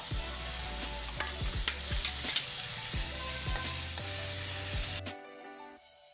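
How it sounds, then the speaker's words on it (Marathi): Onion sautéing in a pan for kurdai bhaji, a steady sizzle under repeated scraping stirs that suddenly cuts off near the end, leaving a faint hum. "कांदा परतून झालेला आहे"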